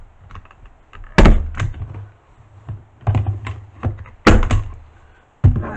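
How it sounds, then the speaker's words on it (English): A hand stapler punches staples through pink fuzzy pipe cleaners on a wreath, giving four sharp, loud clacks spaced a second or more apart, each with a short rattle, over a low steady hum. "we're going to just staple across the pipe cleaner."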